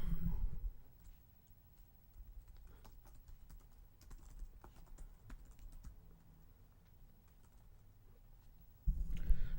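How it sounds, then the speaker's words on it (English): Typing a made-up website name on a computer keyboard: a steady run of light, quick keystroke clicks at moderate distance, with louder handling thumps at the start and end. "I'll just type in a name for"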